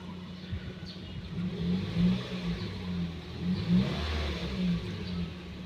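A car with its check engine light on is started and left running, its engine humming steadily and revving up and down in a continuous close drone with no talking.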